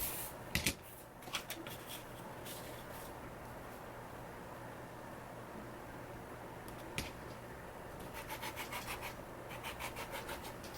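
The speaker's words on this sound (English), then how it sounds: "I'm going to measure out 1/4 inch and trim off 1/4 inch." Scissors trim a pressed fabric waistband for a sewing project, quiet close rubbing and snipping with a few sharp clicks, a brief cluster of rapid cuts near the end.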